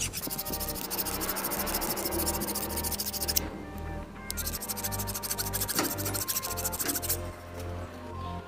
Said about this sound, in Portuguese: Então já passei bastante aqui a lima na peça